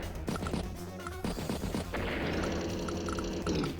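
Artillery strike attack effect in the turn-based strategy game Advance Wars, heard as a dense run of crashing, rattling impacts that swells into a continuous loud burst over a busy game soundtrack.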